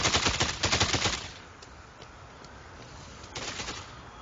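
Bursts of gunfire from the zombie video game Dead Rising 2, a loud rapid volley at the start followed by a quieter scattered stretch and a shorter burst near the end, with no talking.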